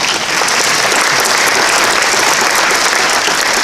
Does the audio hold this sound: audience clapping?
yes